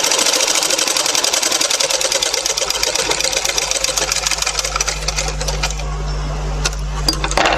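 An electric sewing machine stitches a baby vest in quick, rapid bursts of mechanical clatter with a steady motor hum beneath, close and loud, ending in a few sharp clicks.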